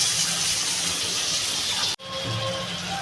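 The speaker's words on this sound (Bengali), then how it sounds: "বন্ধুরা আমি এবার জল দিয়ে দেবো" Water poured into a pot of eggplant and potato curry with rohu fish while cooking, giving a steady close splashing gush that stops abruptly, followed by a quieter simmering sizzle.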